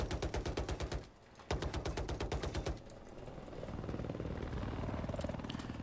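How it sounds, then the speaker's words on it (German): An enemy troop transport helicopter approaches in Battlefield 4, its loud, rapid rotor thumping overlapping with bursts of gunfire, then fading into a steady whirring drone. "Der Truppenheli von denen kommt."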